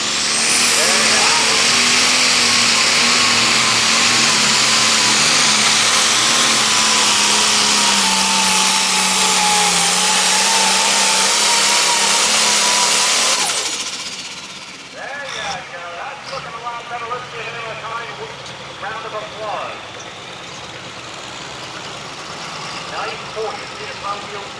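A pulling truck at a truck and tractor pull roars at full throttle, loud and sustained with a rising high whine, then cuts off abruptly and gives way to crowd noise and talk.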